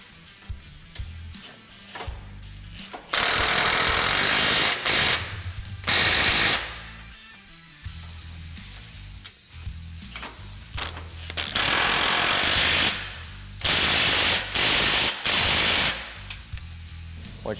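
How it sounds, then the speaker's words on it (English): A power tool tightens the radius arm hardware on a Polaris RZR PRO R during a rear axle install. It rattles in loud, close bursts of impact hammering, several runs of a second or so, with quieter gaps between them. "we will go ahead and fully tighten our radius arm hardware"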